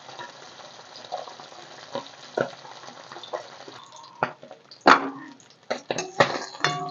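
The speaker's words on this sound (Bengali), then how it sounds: "মাছটা ভালো করে ভাজা হোক।" Koi fish fries in hot oil with crackling pops and spattering, growing sharper and more intermittent toward the end, alongside occasional clinks of stirring.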